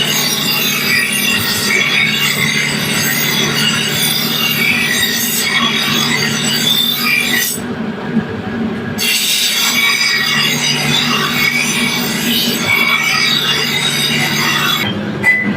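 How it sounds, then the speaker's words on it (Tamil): A knife being sharpened and then polished on a grinding machine in a workshop, a continuous loud abrasive rasping and whirring with a steady hum. A short quieter break comes midway. "கத்தி வந்து சாணம் பிடிச்ச பின்னாடி நீட்டாக பாலிஷ் பண்ணிக்கிறாங்க"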